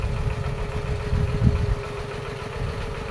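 A water pump engine runs at a steady idle in a drought-stricken Isan field in Chaiyaphum, Thailand, giving a continuous low, throbbing rumble that stays close and even throughout, with no talking.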